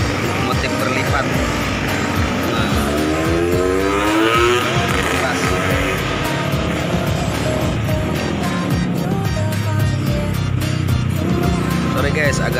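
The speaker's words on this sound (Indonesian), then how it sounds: "banyak kendaraan yang lewat guys, mobil, motor" Cars and motorcycles pass along a busy roadside, a continuous loud rush of engines and tyres with revving bikes sweeping by close, while a person talks over the traffic.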